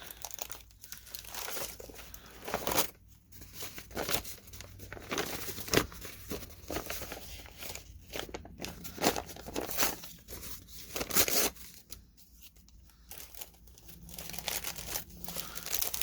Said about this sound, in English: I love that crinkly sound.